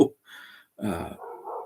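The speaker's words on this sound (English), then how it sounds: "Oh, you can hear the dogs upstairs." A few short dog barks and yips sound muffled and somewhat distant from upstairs, in brief bursts.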